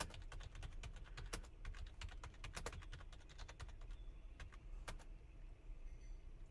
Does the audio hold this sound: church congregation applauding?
no